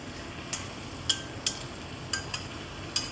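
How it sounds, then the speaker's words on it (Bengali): Spatula tapping and scraping a pan of drumstick leaves (sojne shak) being stir-fried, about six sharp clicks spaced irregularly over a soft, continuous sizzle, close and with no talking. "এবার সব কিছু দিয়ে ভালো করে নেড়ে চেড়ে আবারও একটু ভেজে নিচ্ছি"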